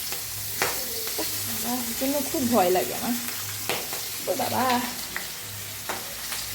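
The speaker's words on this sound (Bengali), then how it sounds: "বাকি মাছটা ভেজে নিই" Fish frying in a pan with a steady loud sizzle and crackle throughout, while someone speaks over it.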